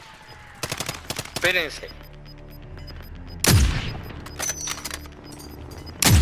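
Gunfire in Call of Duty Modern Warfare, bursts of automatic shots and a heavy boom in a multiplayer match, with a player speaking briefly amid the shooting.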